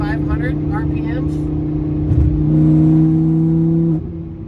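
A Lamborghini Huracan V10 revs while driving, its engine tone climbing and holding as a loud, steady in-cabin drone, with a voice talking over the start.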